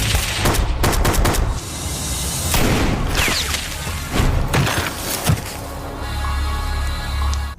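Gunfire from the film Sniper comes in loud rapid bursts and single sharp shots, mixed with booms and splintering impacts, then eases toward a low rumble at the end, with no speech.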